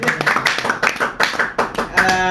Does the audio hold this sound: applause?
yes